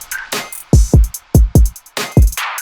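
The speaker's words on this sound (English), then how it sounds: "Then all together the drums sound like this." Hyperpop drums play a quick pattern of booming, pitch-dropping kicks, sharp snare cracks and clicky percussion hits, punchy and dry with no voices.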